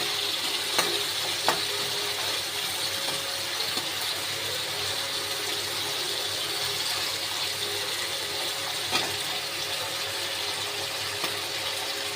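Prawns frying at medium heat in a pan for a pointed gourd and prawn dish, a continuous broad sizzle with occasional faint pops and clicks, steady and close throughout.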